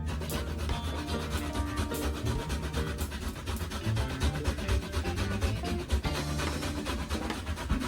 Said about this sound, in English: I prefer to grate my ginger because it's going to add a lot more flavor to your food.